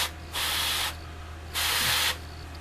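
Two short, even bursts of airbrush spray misting paint onto a 1/48 scale FW-190 A5 model kit, each soft hiss lasting about half a second over a faint low hum.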